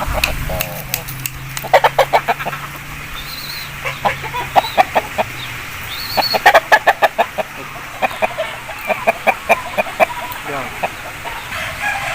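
Aseel roosters and hens clucking and squawking in sharp bursts nearby in Mandi Bahauddin, with people talking in the background over steady outdoor noise.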